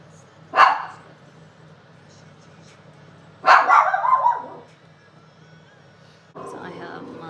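Several sharp barks from a pet dog indoors, one short bark then a longer burst of barking a few seconds later, loud and close, with quiet room noise between.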